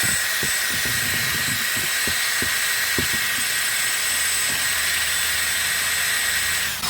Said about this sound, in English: I'm just going to clean up a little bit around the back here with this little rotary wire brushlet in the drill.